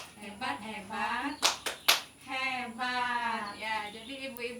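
An audience of mothers finishes the 'tepuk hebat' clapping routine with a few sharp hand claps, while a chorus of voices chants over and around them.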